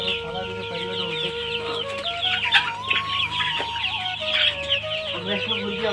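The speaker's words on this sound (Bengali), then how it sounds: "এই যে আমাদের একটা মুরগি" Several chickens at a poultry farm cluck and chatter close by, a dense overlapping mix of calls with brief higher squawks over a steady farm hum.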